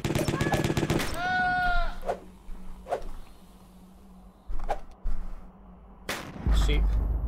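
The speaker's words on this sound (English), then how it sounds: "Sheep." A sheep bleats with a wavering cry in the video game Jazzpunk, amid a busy mix of rapid gunfire-like bursts, sharp cracks and thumps, with talking heard at points.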